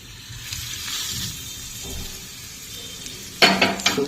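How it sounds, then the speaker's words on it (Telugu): A spoon stirs tempering through amla pickle in a pot, giving a soft scraping swish followed by a few sharp clinks of metal against the vessel near the end. "ఇప్పుడు పోపు మిక్స్ చేసేసుకున్నామండి."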